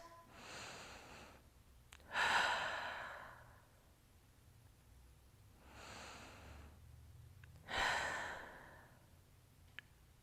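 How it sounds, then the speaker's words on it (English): Two slow, deep breaths during a yoga cool-down, each a soft airy inhale followed by a louder, fuller exhale sigh, close and alone with quiet pauses between. "Big breath in and out."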